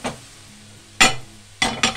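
Leeks for gözleme are stirred and sautéed in a pan. A soft sizzle runs under three short, loud scraping bursts of the spatula. No talking.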